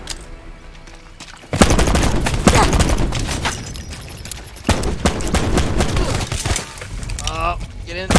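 Rapid video game gunfire in a gun game mode, dense bursts of shots and impacts after a quieter start, with a player talking over parts of it.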